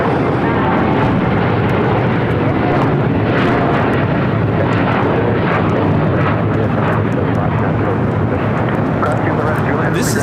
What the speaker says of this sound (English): This is United Airlines Flight 32 taking off to Tokyo Narita on a 787-9 Dreamliner